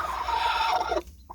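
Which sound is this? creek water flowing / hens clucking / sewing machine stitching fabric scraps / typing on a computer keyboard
hens clucking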